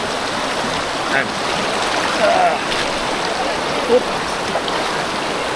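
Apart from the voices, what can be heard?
Nambalan River water flowing in Tarlac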